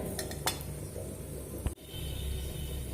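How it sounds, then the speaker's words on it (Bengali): Cashews frying in ghee in a pan over a low gas flame, for vermicelli payesh: a steady, close sizzle with a few light metallic clinks of a utensil, briefly cutting out near the end. "এখানে যে আমি কাজুগুলো রেখেছি কাজুগুলো ভেজে নেব"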